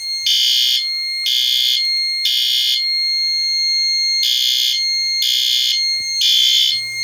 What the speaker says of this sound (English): I can just press the split key and activate the fire drill function